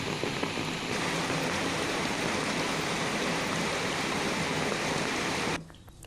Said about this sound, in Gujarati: જંગલોની વચ્ચેથી પાણી વહી રહ્યું હોય, જાણે નદીઓ વહેતી હોય તે પ્રકારના દ્રશ્યો જોવા મળી રહ્યા છે